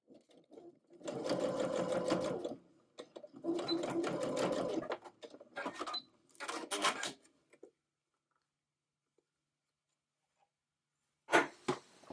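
A sewing machine stitches an apron seam in several bursts of rapid, steady whirring and clatter, with short pauses between runs, a long quiet gap, then one final brief burst at close range.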